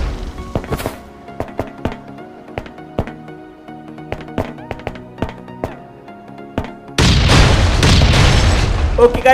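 Two cyclonite charges blast a steel door during a raid in the survival video game Last Day Rules Survival, a loud roaring explosion bursting in after a run of light taps and clicks and continuing to the end.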